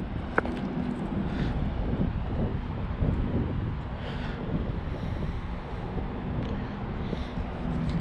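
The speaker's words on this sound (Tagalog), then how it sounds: "Hindi mainit. Ano lang, mahangin siya." Steady outdoor wind buffets the microphone for the whole stretch, a constant low rumble with gusty swells and no speech over it.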